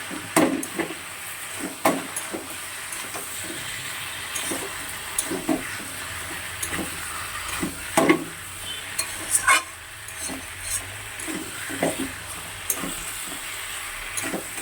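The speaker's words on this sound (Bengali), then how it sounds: "আর এদিকে চচ্চড়িটা একদম গ্যাস আস্তে করে দিয়ে দিয়ে রান্নাটা করছি।" Chorchori, a mixed vegetable curry seasoned with salt, turmeric and chili powder, cooks in a pan over low gas, with a soft steady sizzle broken by repeated stirring scrapes and clinks at close range, and no talking.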